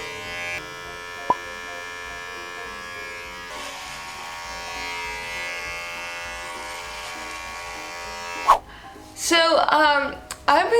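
Electric hair clippers buzz steadily and close while cutting an undercut, running for about eight seconds before stopping, followed by a voice talking briefly.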